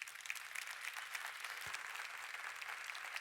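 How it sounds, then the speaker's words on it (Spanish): Church congregation applauding steadily throughout, a dense continuous patter of many hands clapping at moderate distance with no break. "Le damos un aplauso a los que nos ven en la televisión"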